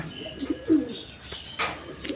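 A pair of Gola pigeons at a pigeon market gives soft, low coos with a few faint chirps and a brief rustle, heard near and quiet without talk.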